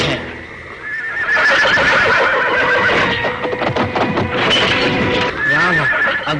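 A horse neighs and whinnies repeatedly, loud and close, with shuffling movement and hoof sounds between the calls, in a jungle setting; background voices are faintly mixed in.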